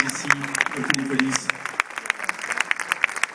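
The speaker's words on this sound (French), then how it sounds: "je pense qu'on peut les applaudir" Audience at a Belgian cinema premiere clapping in a multiplex auditorium, fairly close claps over a host's voice that fades after the first second and a half, leaving scattered applause.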